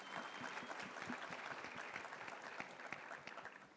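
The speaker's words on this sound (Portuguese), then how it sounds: "Salve de palmas" An audience claps steadily for about four seconds, a dense, continuous patter of many hands with no talk over it.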